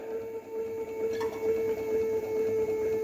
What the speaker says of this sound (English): Here the pump rotates at 121 rpm.